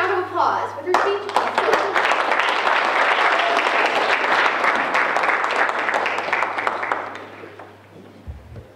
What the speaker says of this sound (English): Let's give her a round of applause with her speech.